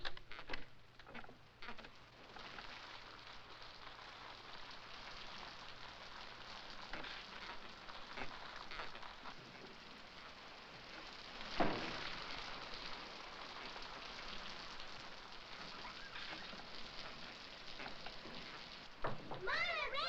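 Steady rain patters and hisses outside a rural farmhouse, a soft continuous wash of drops with faint background noise throughout.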